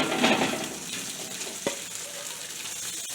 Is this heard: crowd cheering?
no